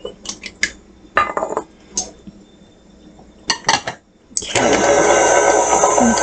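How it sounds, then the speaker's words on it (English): Pumpkin bread batter with eggs gets mixed in a bowl: several clinks and scrapes of a utensil against the bowl, then an electric mixer starts up and whirs loudly and steadily. "So we're going to mix that up, get those eggs mixed in there really good."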